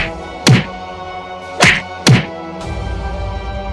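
Three sharp, heavy thwacks from punches landing in the Free Fire video game come in quick succession, loud and close. A lower rumbling thud follows at the end.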